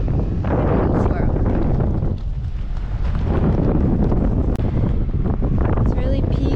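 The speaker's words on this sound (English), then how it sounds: "There's a lot of wind." Strong wind roars steadily across the microphone while parasailing high above a beach, loud and continuous throughout, with a person's voice speaking under the buffeting.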